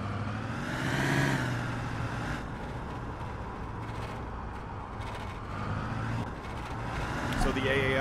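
Vehicle engine droning steadily as it drives in the military shooter game ArmA3, with a slight rise in revs early on and a sharper sound near the end.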